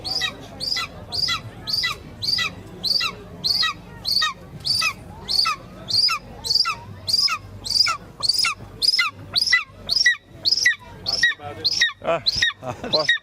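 A captive-bred golden eagle calls in a long, steady series of sharp, evenly spaced cries, close and loud, with the calls quickening slightly toward the end.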